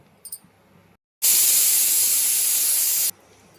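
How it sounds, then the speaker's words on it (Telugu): A pressure cooker cooking tomato dal lets out its whistle as a loud, close, steady hiss of escaping steam lasting about two seconds, with no one talking. "ఇప్పుడు ఒక విజిల్ వచ్చేసింది కాబట్టి మంటను తగ్గించేసిన"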